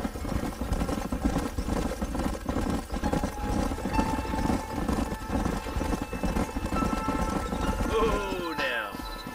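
Horses clip-clopping in the Red Dead Redemption video game, a steady rhythmic patter of hooves under continuous game music and ambience, with a brief brighter burst near the end.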